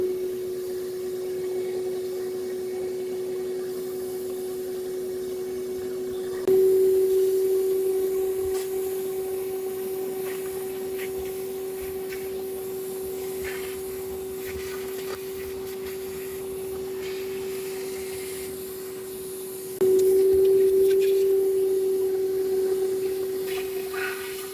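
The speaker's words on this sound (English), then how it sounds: "So after vacuuming all of this out, I did a quick inspection with a flashlight" A shop vacuum hose clears debris out of the spark plug holes of a 2007 Hyundai Sonata 3.3L engine, making a loud, steady close-up whine that jumps up in pitch and level twice.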